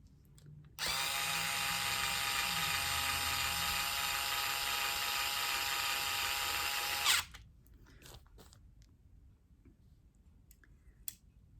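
A power tool runs at high speed for about six seconds, tightening bolts while a small quad cart is being assembled, then stops, leaving a few faint clicks and handling noises.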